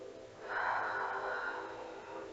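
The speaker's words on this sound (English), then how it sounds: "So nice big inhales, full extended" A single slow, deep breath during a yoga session, a soft airy rush that swells and then lingers as a long exhale, quiet and close with no talking.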